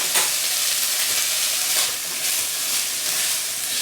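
Onions fry and sizzle in a pan with a steady bright hiss, broken by soft scraping bursts as they are stirred, close and alone with no talk.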